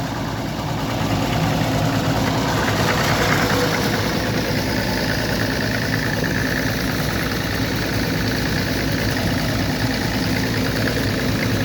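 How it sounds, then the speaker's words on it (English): A Fordson E27N tractor fitted with an Armstrong Siddeley engine and no PTO idles steadily, giving a loud, continuous rumble with a faint rhythmic knock that holds throughout, with no talk. "An Armstrong Siddeley engine in the back of it, no PTO."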